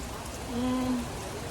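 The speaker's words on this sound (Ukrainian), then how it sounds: "дивіться, який дощ пустився" Steady rain falling with a dense, even hiss, with a brief low tonal hum partway through.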